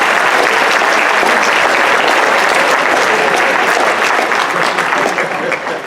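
A banquet audience bursts into sustained applause, a dense, loud wash of clapping hands that holds steady for several seconds before starting to taper off.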